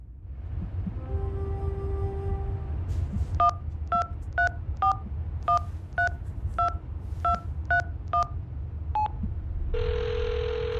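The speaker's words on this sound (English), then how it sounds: "Dial the number." A telephone number is keyed in on a phone keypad: a dial tone gives way to roughly a dozen short, evenly spaced touch-tone beeps, followed by a steady ringing tone. The sound is clear and close, with no talk.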